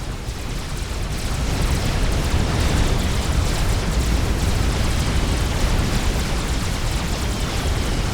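Bombs from Tech 1 bombers in a strategy game, a dense, continuous rumbling roar of overlapping explosions that holds steady and loud throughout.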